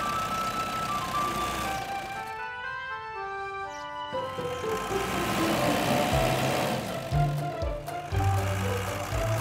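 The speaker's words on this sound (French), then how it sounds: "Le camion grue et la dépanneuse sortent du garage." A crane truck and a tow truck rumble and rev as they drive out of a garage under a bright, busy musical tune in a children's cartoon, the motor noise growing heavier toward the end.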